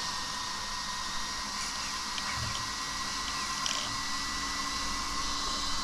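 A brushless 3600 kV motor in a Tamiya M05 RC car runs indoors with a steady, faint high-pitched electric whine and hum, holding a constant tone throughout with only small flickers, no talking.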